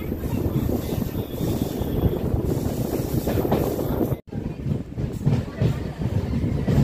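MEMU local train rolling along the line toward Bhadrachalam Road, a steady loud rumble of wheels and carriage with wind noise throughout, briefly cutting out near the middle, with faint voices mixed in.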